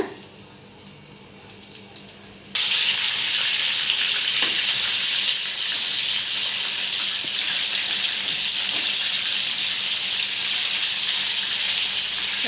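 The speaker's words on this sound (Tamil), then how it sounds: "பாருங்கள் எல்லாத்தையும் நம்ம வறுத்து எடுக்க போகிறோம்" Batter-dipped apple slices drop into hot oil and a loud, steady sizzle of frying starts suddenly, continuing evenly up close.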